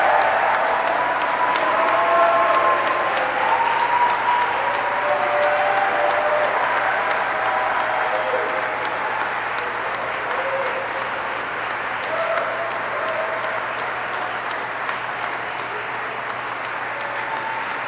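A large audience applauds steadily throughout at an Army flight school graduation ceremony honouring new aviation warfighters, a dense, continuous wash of clapping with scattered cheers that holds at a sustained loudness.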